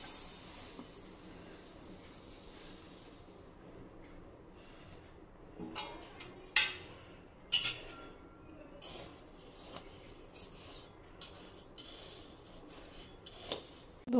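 Dal and rice are dry roasted in a pan, with a soft, steady rustle broken by scattered scraping clinks of a spoon against the metal, close by and fairly quiet.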